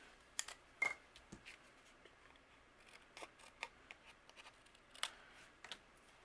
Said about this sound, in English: any excess overhanging I'll just trim off